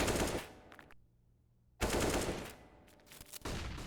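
Rapid bursts of AK rifle fire in the game CSGO, loud crackling automatic volleys that cut out for nearly a second of near silence, then resume in further sharp, dense bursts.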